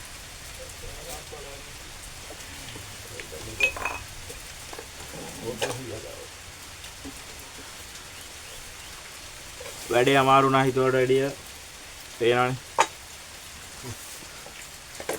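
Heavy rain pours steadily at a rock cave on Mawaragala mountain near Dambana, a dense hiss that persists throughout, while people talk intermittently nearby.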